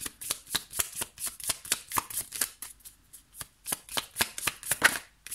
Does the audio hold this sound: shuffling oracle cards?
yes